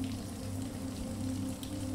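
Steady rain falls through the night on a houseboat on Lake Union, a soft even hiss with low rumbling patter. It holds constant and quiet, with no voices.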